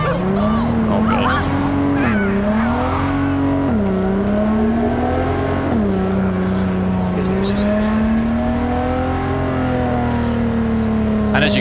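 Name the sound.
car driving in video game Cyberpunk 2077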